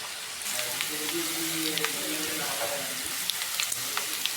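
Sliced bitter gourd sizzles and crackles steadily in hot oil in a pan, a close, continuous frying hiss with a few stirring clatters and no talk.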